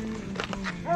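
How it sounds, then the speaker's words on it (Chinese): A small, fierce dog at a campsite gives a couple of quick, sharp yips and barks up close, ending in a short high whine over a steady low background hum. "这个小狗凶得不得了"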